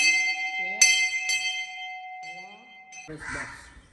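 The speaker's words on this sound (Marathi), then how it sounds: "घंटी वाजव देवा" A metal temple bell is struck twice, each ring sustaining with a long shimmering tone, followed by a brief clatter and a short voice.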